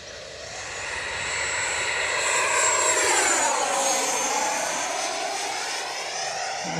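A Freewing F-22 Raptor RC jet flies past, its ducted-fan whine sweeping in pitch as it approaches and recedes, loud and steady with no voices over it.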